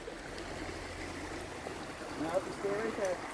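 High spring water rushing down a stream in the Maine woods, a steady broad wash of flowing water with faint bird chirps near the end.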